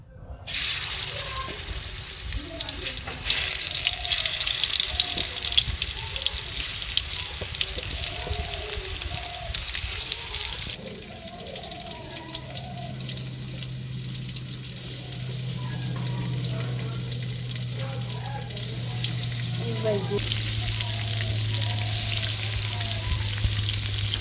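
Katla fish frying in hot oil, a loud continuous sizzle with crackling, easing after about ten seconds into a softer steady fry under a low hum.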